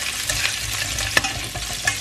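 Sliced, slightly wet pork sizzles steadily in a hot pan as it crisps, with soft stirring scrapes and an occasional pop, close and continuous with no talking.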